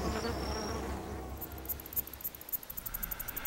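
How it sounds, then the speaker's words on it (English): Bees feeding on pollen and parasitic flies buzzing in close-up, a continuous drone giving way to a rapid pulsing buzz with high-pitched whine overtones, alone without speech. "As the bee eats the pollen, the fly eats the bee."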